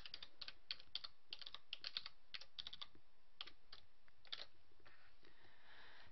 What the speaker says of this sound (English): Confirm your password by typing it again